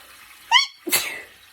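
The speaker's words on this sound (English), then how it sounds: "Oh, I have to sneeze." A single sneeze in a home kitchen during sauce making: a sharp inhaled catch followed by a loud, explosive burst up close, then quiet.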